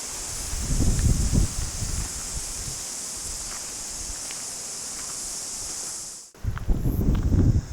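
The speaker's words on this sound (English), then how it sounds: "there's now all the wind coming" Wind from a nearby cyclone buffets the microphone outdoors, a constant loud rushing with low gusty rumbles and a brief dropout near the end, and no talking.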